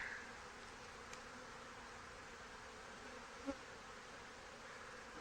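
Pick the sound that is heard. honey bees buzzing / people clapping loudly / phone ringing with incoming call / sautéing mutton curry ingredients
honey bees buzzing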